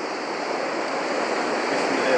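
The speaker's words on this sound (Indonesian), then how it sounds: "Ini suaranya agak kecil ya karena suara ombak sangat keras sekali." Steady roar of surf washing in, a broad continuous wash of noise with no breaks, fairly loud and close.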